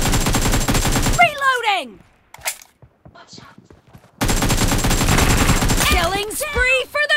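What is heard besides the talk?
gunfire in BGMI video game team deathmatch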